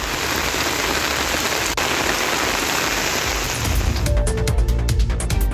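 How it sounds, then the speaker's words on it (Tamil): Heavy rain pours down in Karaikal: a loud, steady, close wash of rainfall that thickens and grows more uneven in its final seconds. "காரைக்காலில் நகரப் பகுதிகள் மட்டுமல்லாமல் திருநள்ளாறு, சேத்தூர், நெடுங்காடு, திருப்பட்டினம் உள்ளிட்ட பல்வேறு பகுதிகளில் கனமழை பெய்தது."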